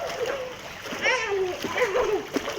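A child splashes and kicks while swimming in a resort swimming pool, making steady watery sloshing that runs under an adult's continuous coaching voice.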